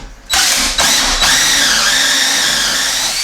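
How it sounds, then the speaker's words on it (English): A drill bores into glued kitchen cabinets indoors, running loud and steady with a high whine after a brief start and a couple of quick stutters in speed. "anytime you drill in these mostly glue cabinets"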